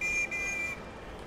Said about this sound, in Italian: Posso usare il fischio.